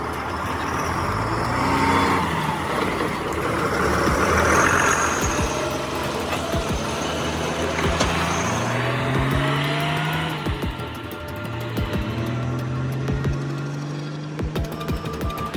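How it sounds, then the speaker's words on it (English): A 1972 Kenworth logging truck hauling forestry logs rumbles past with a deep diesel drone, gears shifting and the engine pitch rising in steps, loud and close with no voices. "David Hull hauls PHS forestry logs with his legendary 1972 Kenworth logging truck"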